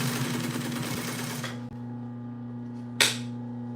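A sewing machine stitching upholstery runs in a steady, close mechanical chatter with a constant hum for about a second and a half, then stops abruptly, leaving a faint hum and a single sharp click near the end.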